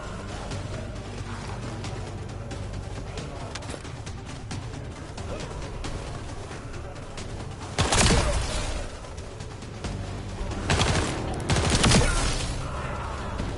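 Sustained turret gunfire from The First Descendant, a steady dense stream of shots over game background, with louder heavier bursts near the end.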